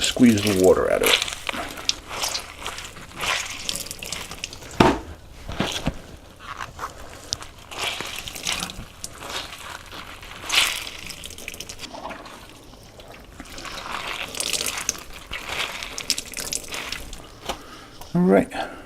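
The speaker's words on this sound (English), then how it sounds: "and just squeeze the water out of it." Soaked cabbage for kimchi squeezed by hand, with wet drips, trickles and squishy splashes coming in irregular bursts, close by, as someone talks throughout.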